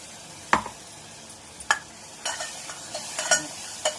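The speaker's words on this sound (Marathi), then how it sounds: "हे सगळं आपण तेलामध्ये टाकूया। ते चांगलं फ्राय करूया" Hing, garam masala and turmeric frying in oil for chana masala, a low sizzle under sharp stirring scrapes and clicks of a spoon against the pan, close up and without speech.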